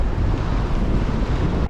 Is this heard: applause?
no